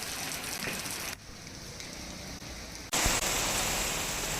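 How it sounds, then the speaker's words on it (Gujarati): Heavy rain pours steadily over a village in Banaskantha, a dense even hiss that dips a little in the middle and then swells louder for the last second and a half. "ધોધમાર વરસાદ વરસી રહ્યો છે"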